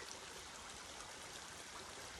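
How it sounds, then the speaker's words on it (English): A small stream of water trickling steadily at a secluded spot, a soft, continuous broadband wash with no voices over it. "there's something soothing and wonderful about just listening to the sound of a beautiful little stream"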